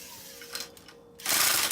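A borrowed impact rattle gun working on a Trailmaster MB200 mini bike bolt gives a short buzz, a brief pause, then a loud sustained rattling burst close up.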